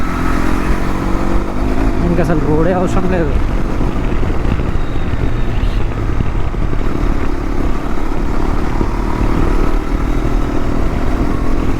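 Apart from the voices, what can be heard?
Hero XPulse 210 motorcycle riding with pillion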